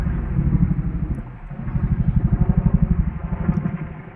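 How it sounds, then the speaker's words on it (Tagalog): A helicopter circling over a mountain in Canada, its rotors thumping in a steady, rhythmic pulse over a continuous low engine rumble. The chop grows stronger and more regular partway through and stays at a moderate distance. "Ayan sa itaas oh. Helicopter. Ikot-ikot yan dito sa bundok."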